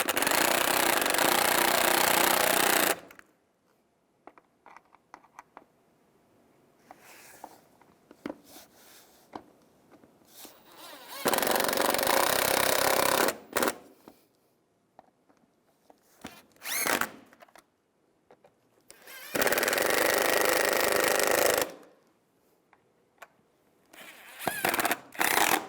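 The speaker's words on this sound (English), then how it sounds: "Now tighten the screws down." Power tool driving screws down on the air box of a 2008-2016 Chevrolet Cruze during a thermostat housing replacement, three loud bursts of a few seconds each separated by quiet pauses with small handling clicks.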